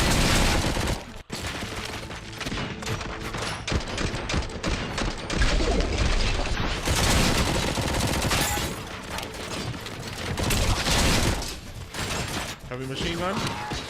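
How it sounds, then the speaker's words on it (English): A heavy machine gun in RoboCop: Rogue City fires loud, continuous rapid bursts across a chaotic gunfight, with sharp impacts and brief pauses, while someone talks over the shooting. "Heavy machine gun."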